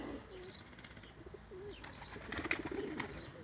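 Pigeons coo softly in short repeated phrases, with scattered chirps and a brief flutter of wings against a dull outdoor background.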